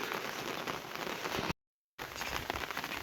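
Steady rain pours on a rainy-day walk, a dense even hiss of drops close by, broken by a brief total dropout in the middle before the downpour resumes at the same intensity.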